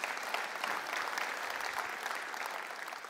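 A church congregation applauds during a sermon, a steady, even wash of many hands clapping at moderate distance with no talk over it.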